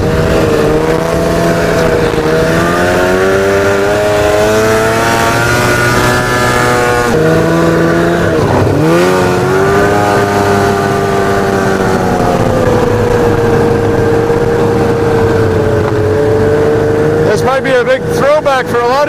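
A Ski-Doo MXZ 700 snowmobile rides across a family farm, its engine droning loudly and continuously with pitch swells as the throttle changes, while a voice talks over it.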